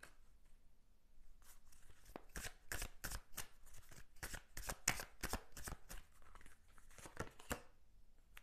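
Tarot cards shuffled by hand during a reading, a quiet run of quick riffling bursts and crisp flutters in irregular rhythm, close up and alone with no talk.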